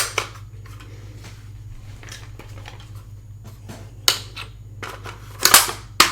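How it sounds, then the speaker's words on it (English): Metallic clicks and snaps of a bullet being loaded into an AR rifle magazine, several sharp isolated clicks over a low hum, with a cluster of louder clacks near the end. "if I take this bullet, we load it into this magazine"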